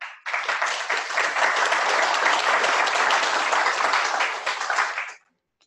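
An indoor audience breaks into a burst of clapping for Mark, dense and steady for about five seconds before cutting off quickly into silence.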